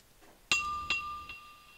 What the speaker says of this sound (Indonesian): ada suara yang dari gelas dipukul pakai obeng.